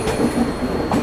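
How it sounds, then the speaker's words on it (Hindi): A special train of sleeper coaches running from New Delhi to Barauni rolls past close by as a steady, loud rumble with rhythmic wheel clatter. "कोई स्पेशल ट्रेन है, क्योंकि स्लीपर के कोचेस वगैरह भी मेरे को इसमें दिख रहे हैं।"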